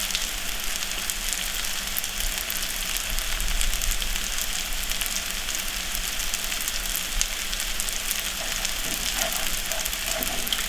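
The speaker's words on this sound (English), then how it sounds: "this is still sizzling. You can see the butter soaking into the bread." Bread cubes fry in butter in a pan, giving a steady, close, crackling sizzle like light rain that runs evenly throughout with no voices.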